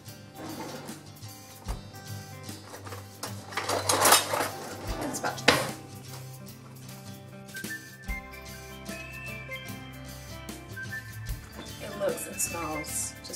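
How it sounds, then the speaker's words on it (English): Vegan cheese sauce being stirred into drained pasta in a pot, with clinks and scrapes of a utensil against the pot and brief clattering bursts, while a person talks throughout. "I'm just going to add it into the pasta and stir it."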